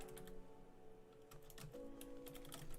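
Fast typing on a computer keyboard, a steady patter of close key clicks over a faint background tone, with no one speaking.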